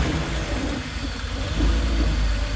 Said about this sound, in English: let's fire up and see what happens.